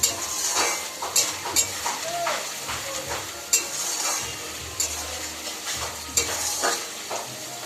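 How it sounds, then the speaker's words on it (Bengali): A utensil scrapes and clinks steadily against a pan as a sauce seasoned with salt and sugar is stirred, with a soft sizzle of frying underneath and repeated metallic taps. "স্বাদ মতো চিনি দিয়ে দেবো, দিয়ে নাড়তে থাকবো।"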